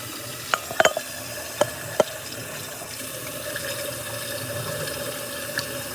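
Rice being washed under running tap water, a steady trickle and swish with a few sharp clinks and knocks near the start, close by with no talking.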